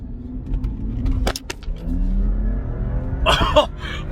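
A turbocharged BMW 335i N55 engine with an upgraded diverter valve rumbles at idle, climbs into a rising rev, with a brief sharp burst near the end.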